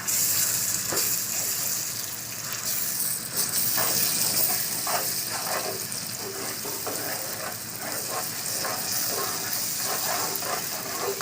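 Ginger garlic paste fries with onions and green chillies in a pan for chicken curry, a steady close hiss and sizzle with scattered crackles and occasional stirring, running continuously without talk.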